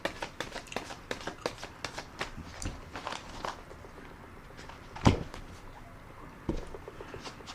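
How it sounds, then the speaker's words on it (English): A tarot deck is shuffled and riffled by hand, producing rapid papery flutters and soft taps in quick bursts, with one louder slap near the middle, all close and fairly quiet. "let's shuffle and ruffle the deck a little more"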